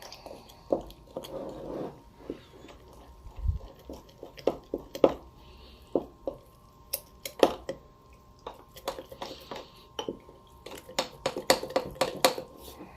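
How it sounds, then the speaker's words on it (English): Ciabatta dough ingredients are stirred in a bowl, giving irregular clinks and scrapes of a utensil against the dish with soft wet squishes between, close and fairly quiet, with no talking. "Make sure I mix everything up really good."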